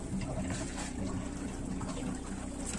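Water starts running through the freshly plumbed water circuit of a camper van. It makes a steady, even rushing hiss with a low hum beneath, continuous and unchanging throughout.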